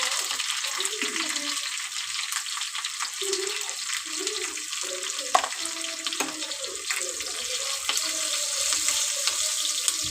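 Bottle gourd frying in a pan with curry leaves, garlic and turmeric gives a steady, dense sizzle that hisses throughout, while a voice talks over it.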